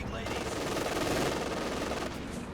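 Gunfire from an anti-tank gun and infantry in a Company of Heroes 2 1v1 match, a dense continuous rattle of rapid shots with battle noise filling the whole stretch.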